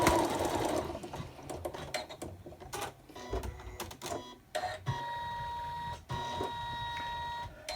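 An embroidery machine stitches out a gingerbread boy tree hanger, its rapid needle chatter running steadily with small pauses and shifts in pace, close up and without speech.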